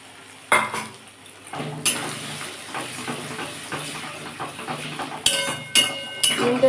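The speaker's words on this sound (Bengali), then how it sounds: "ডিমটা দিয়ে ভালো করে ঝুড়ি ঝুড়ি করে ভেজে নেব।" Egg stirred into fried onions in a pan for an egg-and-onion paratha filling, with a spatula scraping and clattering against the pan in repeated strokes over a soft steady sizzle.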